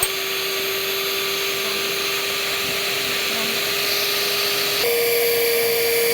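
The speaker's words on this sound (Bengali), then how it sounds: "এখন আমরা এটা ইলেকট্রিক মিক্সার দিয়ে মিক্স করে নিচ্ছি" A steady electric hand mixer whine runs throughout, whisking a homemade cappuccino mixture continuously at close range, shifting pitch slightly near the end.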